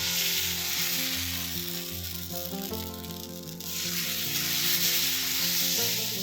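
Adai batter sizzles loudly and steadily on a hot pan, a dense frying hiss heard under background music.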